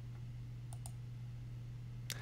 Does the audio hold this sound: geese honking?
no